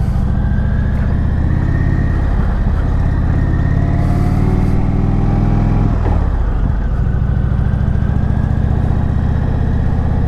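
A 2019 Indian Springfield motorcycle carrying a pillion rides along, its engine and exhaust giving a mild, steady low drone with a constant wash of wind noise and no pauses.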